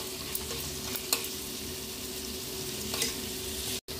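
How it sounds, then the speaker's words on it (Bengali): Sliced onion and capsicum stir-fried in a pan for a Chinese-style chicken dish give a steady, close sizzle with scraping stirring strokes throughout, no voices. "একটু সময় ধরে নাড়াচাড়া করে নিতে হবে। পেঁয়াজটা একটু হালকা নরম হয়ে যাবে,"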